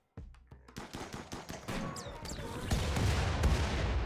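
Gunfire in the colony game RimWorld starts as scattered single shots and builds into dense rapid bursts of fire with some heavier booms underneath, moderately quiet overall.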